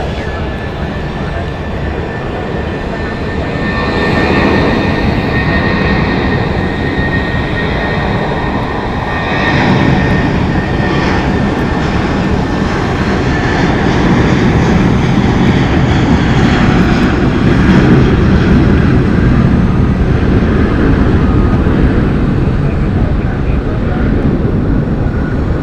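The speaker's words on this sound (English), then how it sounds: "Next up for departure is American Airlines 1884 going to Palm Springs, California, on an Airbus" An American Airlines Airbus A320 departs from Phoenix Sky Harbor, a sustained, loud jet engine roar that swells as the takeoff power builds, with a whining tone riding above the rumble; speech is faintly mixed in.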